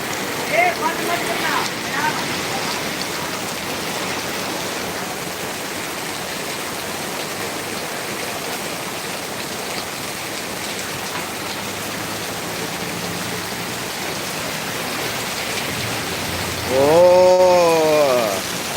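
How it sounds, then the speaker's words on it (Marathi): Steady heavy rain pours continuously, a dense hiss throughout, with a brief loud tonal whine near the end. "पावसाची खूप सुरुवात आहे"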